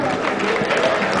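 An audience at the Plaza del Danzón in Mexico City claps loudly for a ballet director, a thick, close burst of applause with a voice partly mixed in.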